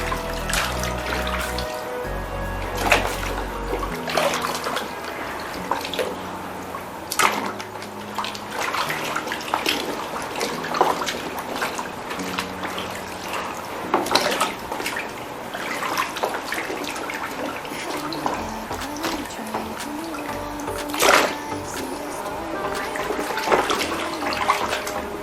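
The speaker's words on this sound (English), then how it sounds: "Step 3, we are going to wash thoroughly." Peeled cassava is washed in water, and steady splashing and sloshing runs continuously at moderate loudness, broken by occasional louder splashes.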